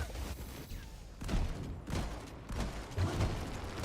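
Explosions in the video game Deep Rock Galactic: a few heavy, muffled booms and crackling bursts roll out at a distance, each with a broad rumbling tail, fairly quiet overall.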